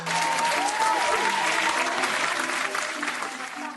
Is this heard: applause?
yes